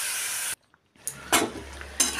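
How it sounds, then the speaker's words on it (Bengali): Cabbage hits a hot pan and sizzles, a loud hiss that cuts to silence, then returns as quieter frying with a few sharp bursts of spitting and stirring. "পুরো বাঁধাকপিটা দিয়ে দিলাম"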